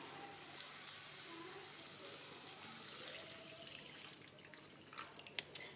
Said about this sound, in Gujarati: તો મેં અહીંયા 1 ગ્લાસ જેટલું પાણી ઉમેર્યું છે